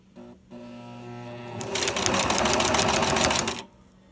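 A sewing machine runs a single seam on a thermal bag, whirring at a steady rapid stitch rate for about two seconds after a brief start-up, loud and close with no talk.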